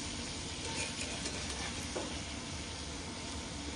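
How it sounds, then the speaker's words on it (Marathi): Bitter gourd mixture frying in a pan, a steady close sizzle with soft stirring scrapes, continuous and even throughout with no talking. "थोडंसं मुरकेपर्यंत नरम होईपर्यंत थोडंसं असं फ्राय करून घ्यायचं"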